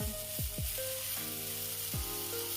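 Vegetables fry in a pan with a steady, close sizzle that keeps going throughout, and faint stirring clinks sound now and then.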